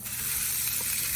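Steady sizzling hiss of a Reuben sandwich frying on a hot griddle, continuous and fairly loud throughout.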